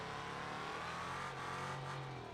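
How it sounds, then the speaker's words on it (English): A car engine in BeamNG.drive revving and holding a steady droning pitch that rises slightly toward the end, loud and continuous with no speech over it. "Why can I hear the engine better now?"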